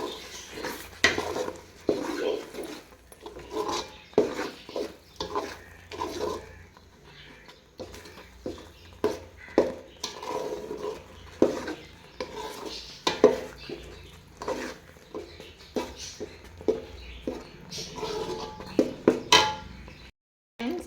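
Fish curry paste mixed with rice flour is sautéed in a pan while a utensil repeatedly scrapes and clinks against the metal in uneven strokes, close and moderately loud, with no talking.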